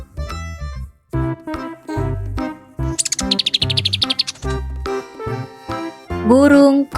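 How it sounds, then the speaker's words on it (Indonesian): Short bursts of high chirping bird calls from a hummingbird, interleaved with tonal music throughout. "Burung kolibri."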